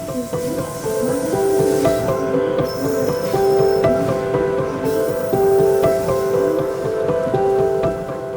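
A train rolls steadily with a continuous rumble, its wheels squealing in long sustained tones on the rails.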